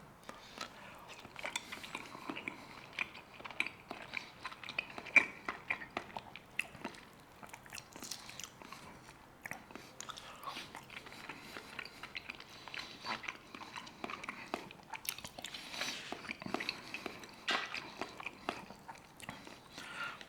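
Close, quiet chewing and biting of fatty salted Caspian herring pieces, with soft wet crunches and smacking mouth sounds scattered steadily through the stretch, no talking.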